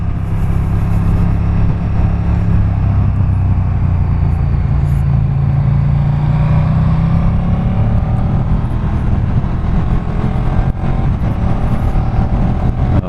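Cupra R car accelerating hard along a winding hill road, a loud sustained engine drone rising and shifting in pitch, heard up close from inside with no talk.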